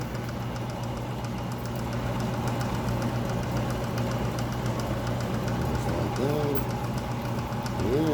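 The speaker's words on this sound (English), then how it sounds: "I'm not going to go quite so deep with this cut since the whole end mill is buried right in there" A milling machine in a home shop drives an end mill deep into steel. It makes a continuous, fairly loud droning hum with steady tonal layers and no clear breaks.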